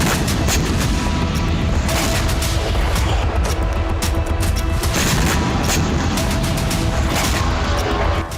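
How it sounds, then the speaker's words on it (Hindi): Repeated blasts and bursts of gunfire during an attack on Taman port on the Black Sea, a continuous loud barrage of rumbling booms and cracks with no pauses. "हमलों के दौरान यहां कई धमाके हुए।"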